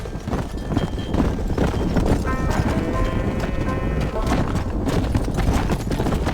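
Horse hooves clip-clopping at a steady gallop in the Red Dead Redemption video game, continuous and fairly loud, with a voice speaking over the rhythm and a brief whinny-like tone in the middle.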